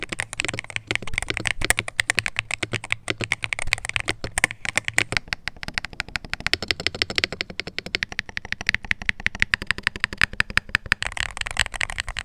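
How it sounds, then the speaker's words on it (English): Steady, close typing on an Aula Hero 68HE magnetic mechanical keyboard with clacky switches, crisp keystrokes in a fast, continuous rhythm. No voices. "leaning more towards the clacky side of switches, but let's hear how it sounds"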